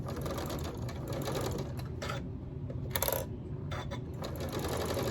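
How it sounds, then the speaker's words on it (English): A sewing machine stitches a quilt block in steady, fast mechanical runs, close by and fairly quiet, broken by brief pauses and clicks between bursts of stitching. "I'm gonna start sewing here, and I'm gonna take out my first clip, and I'm just gonna do a couple of stitches here"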